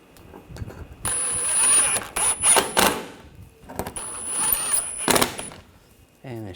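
Screws on a 2013–2022 Buick Encore 1.4L engine water pump being snugged down with a ratcheting tool, two bursts of quick clicking with a whine between quiet pauses.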